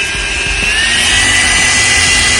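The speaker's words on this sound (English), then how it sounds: "this is the 21 volts brushless blower. Now we show you." A 21-volt brushless cordless handheld blower runs at full speed, giving a loud, steady whooshing roar with a high motor whine that holds constant throughout.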